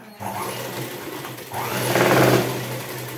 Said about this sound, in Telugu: రెండు కుట్లు వేసుకోవాలి